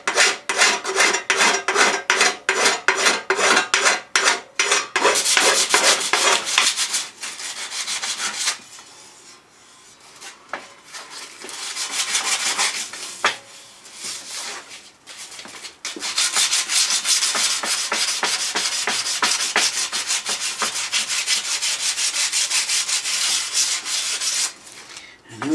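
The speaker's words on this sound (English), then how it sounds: "You get a long surf-form rasp and slide it along, you'll get a lovely flat panel" Surform rasp filed along a metal panel to flatten weld blobs, fast rhythmic rasping strokes in close-up, a brief pause mid-clip, then a long continuous stretch of filing.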